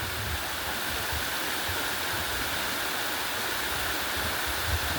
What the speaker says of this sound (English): a cauldron or a tube coming out up there that spits the water down the rocks